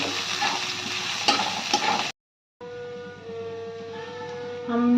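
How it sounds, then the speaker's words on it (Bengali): Ginger, garlic and green chilli sizzle while being stirred in a pan, a steady crackling fry with scraping, broken by a short silence before the frying resumes, close and fairly loud. "দিয়ে দেবো আদা কুচি, দিয়ে দেবো কাঁচা লঙ্কা কুচি। দিয়ে আমি ভালো করে নাড়িয়ে নেব।"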